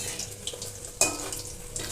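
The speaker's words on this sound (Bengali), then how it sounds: "মা মোমো যে ভাজছে" Momos frying in a home kitchen pan give a steady soft sizzle throughout, with a sharp clatter or splash at the midpoint and light stirring noises, heard alone.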